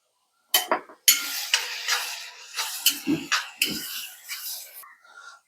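Onions, salt and green chillies being stirred in a pan, with a series of close scraping clinks and metallic knocks from a spoon against cookware, evenly paced, with a faint voice in the background.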